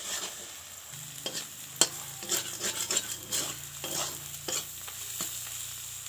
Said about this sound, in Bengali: ডিমটা দিয়ে দিয়েছি বন্ধুরা এবার নাড়াচাড়া করতে হবে